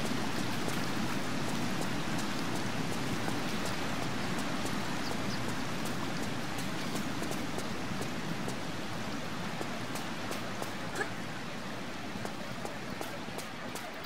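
Steady rain in the Tomb Raider 3 video game, a continuous even hiss of falling drops holding at the same loudness throughout, with no talk over it.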